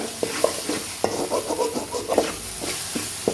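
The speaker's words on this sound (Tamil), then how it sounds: "அஞ்சு முட்டையை கலக்கி வச்சுருக்கேன் அப்படியே கிண்டிக்கிட்டே இருங்க வதக்கிட்டே இருக்கணுங்க" Five beaten eggs fry on a hot pan for homemade kothu parotta while being stirred steadily, with a continuous sizzle broken by repeated quick scraping and tapping strokes of the spatula, close and fairly loud.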